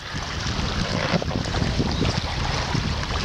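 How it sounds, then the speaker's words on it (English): Water waves slapping against an inflatable raft, a rough churning splash mixed with blustery wind buffeting the microphone, steady throughout with no talking. "How you gonna handle these waves?"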